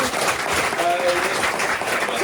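Audience at a Gong Show live comedy podcast taping applauding together, a dense steady wash of clapping held at even loudness, with a few voices mixed into the crowd noise.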